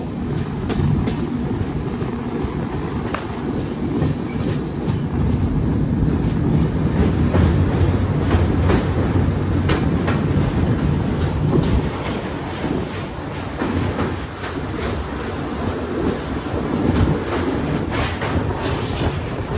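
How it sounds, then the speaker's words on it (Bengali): Vistadome tourist train on the NJP to Alipurduar Dooars route pulling out of Sevoke station: a steady, loud rumble of wheels and coach movement with faint rhythmic clatter and some wind buffeting, heard from inside the carriage without talk. "আমাদের ট্রেন সেবক স্টেশন ছাড়ছে।"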